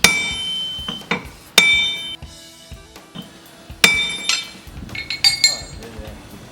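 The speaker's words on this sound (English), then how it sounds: "With the panel under tension, you can hammer the distorted areas." Sharp metallic strikes of a hammer on a distorted car body panel held under tension, ringing briefly, in an uneven series of about a dozen blows, some hard and some lighter taps.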